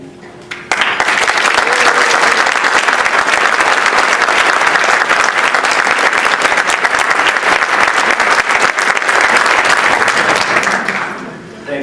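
A large audience breaks into loud, sustained applause for Andrew Dreyfus as he receives the MAMH Friend and Leader Award, holding steady for about ten seconds before tapering off.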